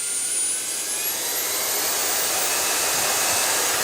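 A Kairiyard electric mini dust blower for PC runs at speed, a loud, steady jet-like roar and high whine that holds without a break.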